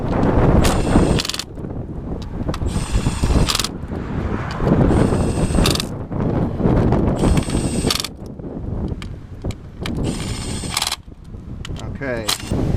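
Torque wrench ratcheting in bursts while bolts on a BMW E39 EV conversion are tightened to spec, with repeated clicking spells separated by shuffling and handling noise in a workshop.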